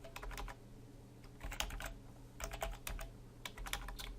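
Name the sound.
typing PHP code on a computer keyboard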